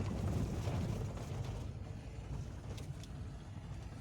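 A worn-out pickup truck's engine idles nearby with a steady low rumble, loudest in the first second and a half, then settling into a softer continuous drone with no voices.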